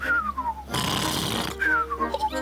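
A cartoon pig character's voice imitates loud snoring: two drawn-out snore cycles, each a descending whistle-like tone followed by a broad noisy rasping exhale, loud and close.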